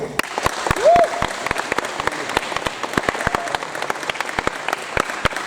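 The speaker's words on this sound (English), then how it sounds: "I just want to give a round of applause for my Under-12s" Applause fills the room at an RDF award ceremony for an Under-12s team, many hands clapping briskly and close with distinct sharp claps and a short whoop early on, with voices mixed in.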